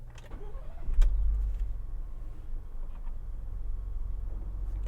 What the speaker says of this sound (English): I'm going to start the vehicle